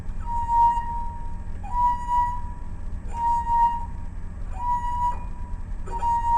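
Water-filled wine glasses rung to sound musical notes: a clear, sustained pure tone repeated about five times in slow rhythm, each ring starting with a soft touch, over a low steady background hum.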